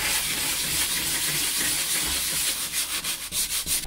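Fiberglass panel surface roughened by hand sanding to prepare it for bonding a solar panel mount on a sailboat; steady, close scratchy rubbing runs continuously, with quicker back-and-forth strokes toward the end.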